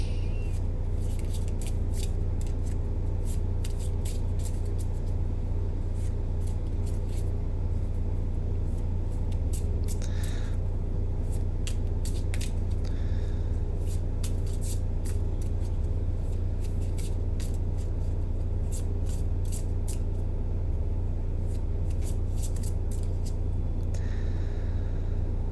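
Lenormand cards riffle and flick in repeated bursts over a steady low engine-like rumble, with short pauses between shuffles.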